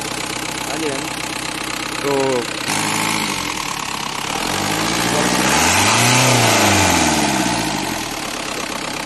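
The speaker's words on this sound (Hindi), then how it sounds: "ये था गाइस को इसका एक्सीलेशन जो इसकी इंजन की आवाज़ है" A Mahindra Scorpio CRDe turbo diesel engine idles with a rough, knocking rumble, then revs up in a loud swelling sweep and falls back, heard close with people talking over the start.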